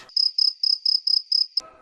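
A grasshopper chirps in a quick run of seven evenly spaced, bright, close pulses, ending abruptly as a brief rustle follows.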